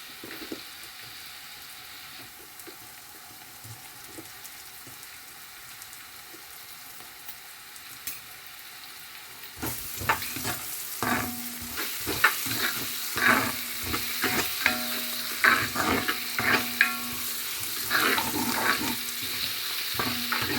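Onions sauté slowly in a pan for a Jaffna crab curry, a faint low sizzle at first, then a louder, close crackle with a rhythmic scraping of repeated stirring.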